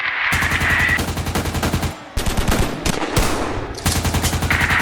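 Rapid machine-gun fire from soldiers in a scenario depicting an emergency alert, loud sustained bursts of close automatic gunfire with brief pauses between volleys.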